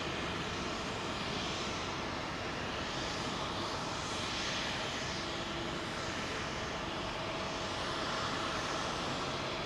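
A Malaysia Airlines Airbus A350 jet at London Heathrow, a continuous dense engine rumble and rushing roar at constant loudness, with gentle sweeping tonal swells over the steady noise.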